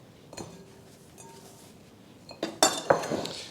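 Broccoli florets dropped into a bowl, with a few clinks and light clattering of kitchen ware that build toward the end, close and without talk.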